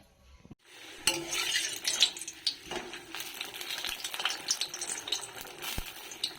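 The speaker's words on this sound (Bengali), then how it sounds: "এটাকে একটু একদম হালকা গ্যাসে ভাজতে হবে যাতে একদম ভালো করে এটা ভাজা হয়" Food frying slowly in a kadai over a low gas flame, a gentle crackling sizzle punctuated by frequent scraping stirs and metallic clinks of a spoon against the pan, with no talking.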